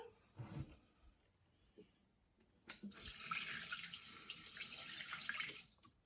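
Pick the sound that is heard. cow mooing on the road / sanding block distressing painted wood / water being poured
water being poured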